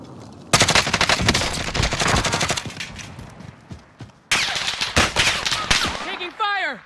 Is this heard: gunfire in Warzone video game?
yes